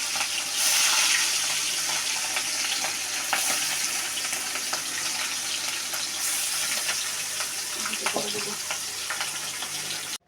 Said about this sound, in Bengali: তেলে মাছ দেওয়ার আওয়াজটা কিন্তু আমার কাছে খুব ভালো লাগে